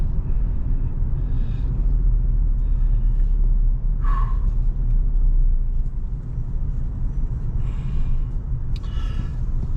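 Road traffic near Anas: a constant low rumble of vehicles close by, with occasional brief hissing swells as cars pass and one sharper tonal squeal midway.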